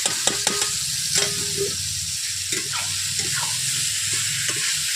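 River snails and potatoes stir-fried in a thick spice paste, with a metal spatula clanking and scraping against the pan over a low, steady sizzle.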